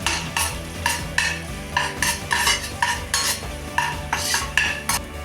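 Minced garlic and ginger cooking in hot oil in a pan while being stirred, with repeated scraping and clinking of a utensil against the pan over a low, steady sizzle; no speech.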